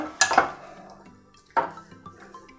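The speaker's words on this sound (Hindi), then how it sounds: "इसको मैं मिक्स करूंगी यहाँ पर।" Chana chaat being mixed with chutney in a bowl, with two distinct clinks and scrapes of a spoon against the dish, one early and one midway, close and fairly loud with quieter stirring between and no talking.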